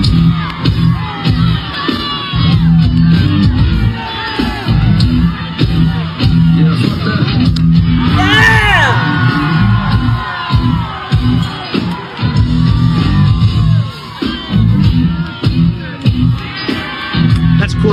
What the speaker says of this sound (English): Listen to people cheer.